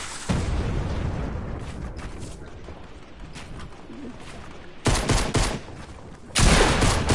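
Video-game gunfire blasting out a wall: sustained rapid bursts of shots, loud and close, with heavier volleys near the end, no voices.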